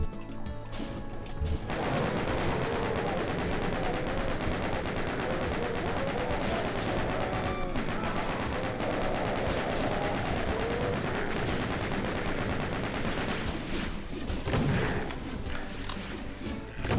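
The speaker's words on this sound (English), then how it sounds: "Alright, so there are going to be some chain gunners here." Chaingunner enemies in DOOM II blast away with chainguns, a dense, continuous stream of rapid gunfire and crashing impacts filling the whole stretch, loud and busy with brief dips.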